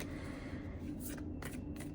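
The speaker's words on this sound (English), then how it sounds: "I'm gonna shuffle here" A deck of tarot cards is shuffled close by, with soft riffling and a few crisp bursts as the cards slap together, quiet and alone.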